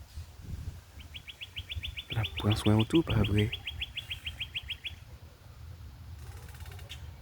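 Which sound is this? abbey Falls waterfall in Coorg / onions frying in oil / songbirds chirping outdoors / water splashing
songbirds chirping outdoors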